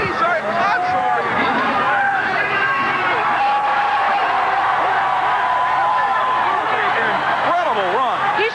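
Crowd at a USHRA monster truck event roaring in sustained ovation, a dense continuous wall of cheering, whistles and shouting voices that stays loud and steady throughout.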